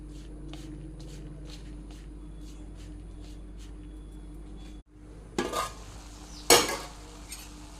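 Grated coconut mixed by hand with chili, coriander, cumin and turmeric powders: soft rhythmic taps and scrapes at first, then two louder, close scraping clatters near the end.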